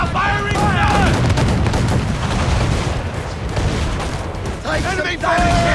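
Enemy ship cannon fire in Assassin's Creed 4 Black Flag, a dense barrage of loud booms and crackling gunfire rolling continuously, with shouted voices over the battle.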